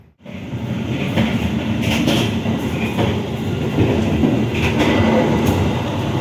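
A loud train hauled by three locomotives rumbles past close by, with steady heavy roaring and clattering wheels and occasional metallic squeals, no voices.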